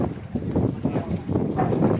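Steady, blustery wind rumbles and buffets the microphone, a continuous low roar with gusts rising and falling throughout.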